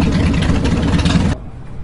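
Loud, close engine roar of motorcycles passing with their engines running, a dense sustained rumble that cuts off abruptly partway through, leaving a quieter low hum.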